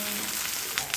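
Fish wrap (meen pollichathu) frying in a covered pan with the lid lifted, giving a steady close sizzle with a couple of sharper crackling spurts near the end.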